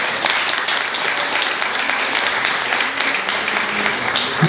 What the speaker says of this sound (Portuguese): Você pode aplaudir o Senhor se você quiser.